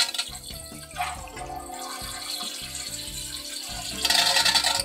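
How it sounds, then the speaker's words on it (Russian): Tap water runs from a supply hose into a toilet cistern while its fill valve is being replaced, a steady close rush that swells louder near the end. "Открываем воду."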